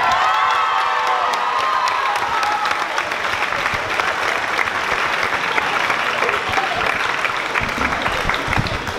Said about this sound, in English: give a big final round of applause to Cardinal Newman High School